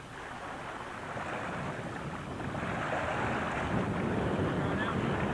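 Gusty wind on a sandy beach buffets the microphone in a steady low rumble that swells slightly, with faint distant voices beneath it.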